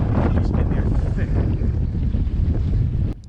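Strong wind gusting at over 30 miles an hour on open water beside a fishing boat, roaring steadily across the microphone as a loud, continuous rush that drops away abruptly just before the end.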